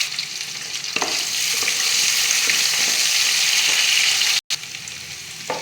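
Chopped small onions frying in hot oil with mustard seeds and dal for an avarakkai poriyal, a steady close hiss and sizzle with faint stirring clicks, briefly cutting out near the end.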